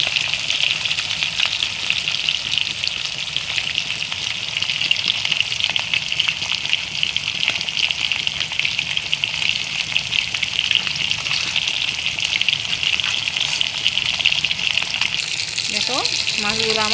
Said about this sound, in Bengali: দেখো মাছগুলো আমার ভাজা হয়ে গিয়েছে, লাল লাল করে ভেজে নিয়েছি।